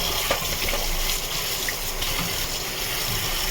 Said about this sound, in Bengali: মাছটা কেটে নিয়েছি, কেটে ভালো করে ধুয়ে নিচ্ছি ঘষে ঘষে